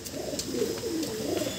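Indian high-flying pigeons of the madrasi and kalsira types cooing close by, soft rolling coos repeating in a continuous low murmur with no speech over them.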